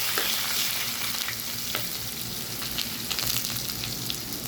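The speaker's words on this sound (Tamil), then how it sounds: "எண்ணெயில் வதங்கட்டும்." Onion and green chilli frying in oil with curry leaves for a carrot mor kuzhambu, a loud close crackling sizzle with bursts of spitting and occasional stirring scrapes, no voices.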